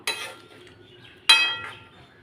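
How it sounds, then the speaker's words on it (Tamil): A utensil scrapes and clinks against a pot of moong bean kuzhambu twice, a short stir then another, in an otherwise quiet kitchen. "போட்டுட்டு எல்லாமே சேர்ந்து கலந்து விட்டுக்கலாம்."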